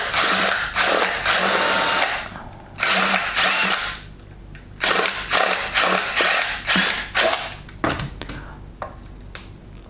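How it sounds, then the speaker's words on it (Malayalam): A drill bores a 6 mm hole into the bottom of a bottle in a series of loud, close, high-pitched whirring bursts of varying length, separated by short pauses. "ഒരു 6 mm ഒരു ഹോൾ അടിച്ചു കൊടുക്കണം."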